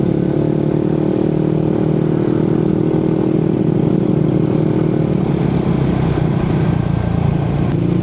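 Yamaha Nmax 155 motor scooter fitted with an open muffler, idling nearby with a steady, loud, rumbling drone that holds constant throughout, with no talking.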